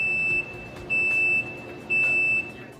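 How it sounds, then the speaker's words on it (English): A commercial OV500 oven's bake timer beeper sounds three times, each a steady half-second electronic tone at an even rhythm, close and clear over a faint background hum. "A beeper will sound after the bake timer times out."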